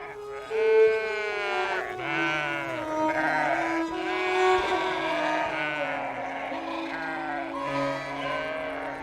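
Sheep and goats on a Moroccan family farm bleat repeatedly and close by, several overlapping wavering calls of different pitches, with deeper voices mixed among higher ones.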